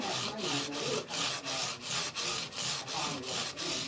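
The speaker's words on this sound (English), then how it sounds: "I've got some of these microfiber pads that you can run along the side." Microfiber pads rub back and forth along the neck of a Fender Squier guitar in steady, even strokes, about ten close, loud swishing passes with brief gaps between them.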